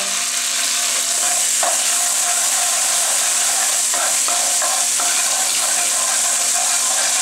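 Desi ghee heats in a kadai, giving a loud continuous hiss and crackle with a few short clinks and taps of a utensil, no voices.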